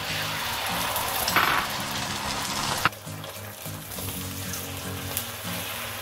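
An egg drops into smoking-hot oil in a pan and sizzles loudly, with a burst of crackling and spitting that settles into a steady fry under soft background music.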